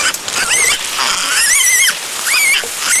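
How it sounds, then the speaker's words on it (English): Pig squealing loudly and close while being carried by hand, several drawn-out shrill squeals rising and falling in repeated bursts across the whole stretch, with no talk. "3 hours like this shouting is not possible, and it's very noisy, a pig."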